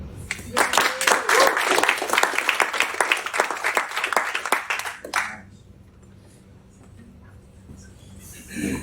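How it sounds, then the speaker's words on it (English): Loud audience applause at a live talk on data privacy, dense clapping for about five seconds before stopping abruptly, followed by quiet room tone and a brief burst of sound at the end. "Round of applause one more time."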